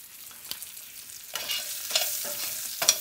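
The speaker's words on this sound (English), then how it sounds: "We're gonna toss in our shallots as well as our garlic." Shallots and garlic drop into rendered chicken fat with crisped spices. A soft sizzle swells as they land, followed by a few close stirring scrapes over about three seconds, with no voices.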